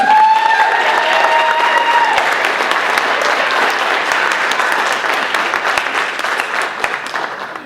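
Audience applause at a county sheriff candidate forum, a full room clapping steadily and loudly throughout, tapering slightly near the end, with a few faint tones early on.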